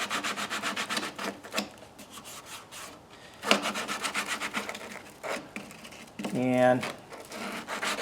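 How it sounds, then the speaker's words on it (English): A hand tool bevels a plastic corner on an intake part of a 2025 Yamaha MT-09, making repeated close rasping scrapes in quick strokes with a brief squeak, while someone speaks at times. "And then I'm just going to bevel off this corner a little bit here."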